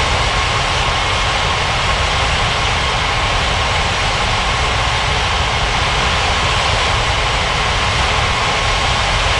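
An airliner's jet engines roar at takeoff power on a runway in an air traffic control video game, a loud, unbroken broadband rumble that holds steady throughout.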